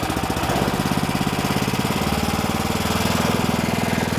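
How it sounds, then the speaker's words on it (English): SealMaster SM-125 crack sealing machine engine revving to mid-level RPM to charge the hydraulic system, a loud, close, steady mechanical drone with a rapid rhythmic chug and knock throughout, no voices. "It's safe to go ahead and crank this engine up to maybe mid-level RPMs, maybe a little bit more"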